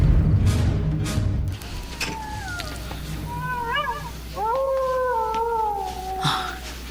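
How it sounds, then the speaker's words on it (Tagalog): Several dogs howl in long, wavering, overlapping cries over a low background rumble, the howls rising and falling at a moderate distance. "Ang mga aso. Umaalulong na naman."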